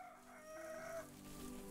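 Chickens in the survival crafting game Clanfolk, set in a cave dwelling, give a sustained crow with clucking, moderately quiet and alone with no talk over it.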